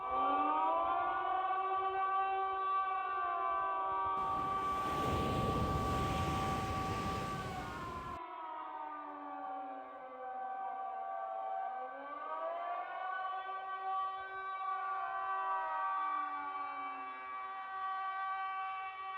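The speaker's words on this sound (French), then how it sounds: "Il faut qu'on lance les sirènes d'alarme." Civil defense alarm sirens sounding during a tsunami drill, several loud wailing tones rising and falling in overlapping sweeps, sustained throughout with a burst of broadband noise in the middle.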